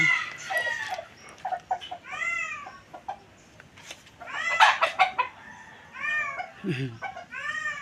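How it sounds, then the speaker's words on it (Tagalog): Several chickens cluck and squawk close by in scattered bursts, with a rooster-like call mixed in and soft voices faintly underneath. "Napagpatuka na rin po ako ng mga manok."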